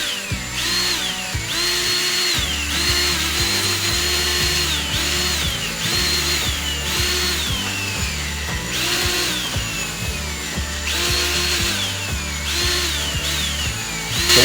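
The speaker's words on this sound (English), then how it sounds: "I love the power planter because I can actually dig" A power planter drill bit churns into garden soil to break the surface for weeding. The motor whines loud and close the whole time, rising and falling in repeated cycles as the bit bites and spins.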